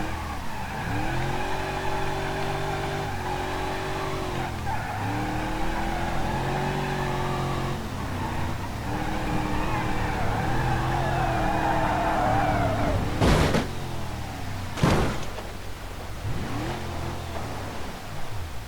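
A car drifts in BeamNG.drive, its tires squealing in long wavering howls over a steady engine drone that rises and falls with the throttle, and two sharp loud bursts break through near the end.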